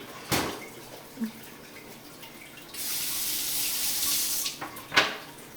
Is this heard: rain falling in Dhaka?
no